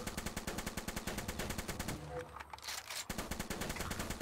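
Rapid AK-47 automatic bursts from the VR zombie shooter Zombie Training Simulator, loud and close, firing in steady rhythmic volleys with a brief pause midway before the shooting resumes.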